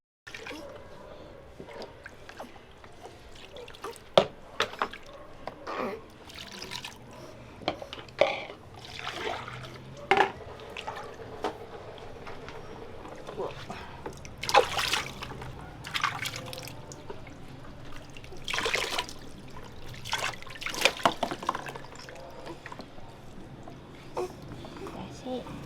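Water splashes and drips in a bathtub during a child's bath, with intermittent louder sloshes and trickles under frequent talk from a child and an adult.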